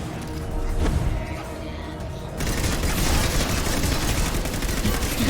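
Rapid automatic gunfire from the video game Mass Effect 2, a dense, loud barrage of shots that swells into a sustained rattling fusillade after a brief lull, continuous throughout.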